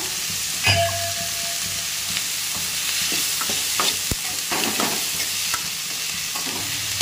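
Tomatoes and chillies sautéing in a pan for egg curry, a continuous close sizzle broken by scraping stirs and utensil clinks against the pan, with no talk.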